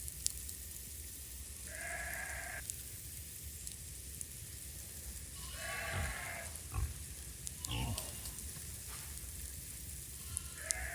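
Pigs on a farm during a big storm grunt and squeal in several short bursts over a loud, constant rush of wind and rain, fairly close.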